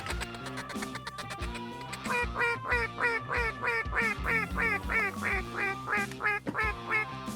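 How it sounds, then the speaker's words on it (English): At a duck and goose hunt, a long string of loud, evenly paced duck quacks repeats close by, with faint voices in the background. "Ducks out front."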